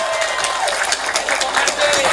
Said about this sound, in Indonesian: Tepuk tangan sepindah malih.